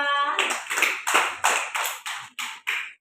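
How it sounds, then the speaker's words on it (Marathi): Schoolchildren in a classroom clap together in a rhythmic run of about eight sharp claps, evenly spaced, after a brief voice at the start. "एकदा टाळ्या वाजवा."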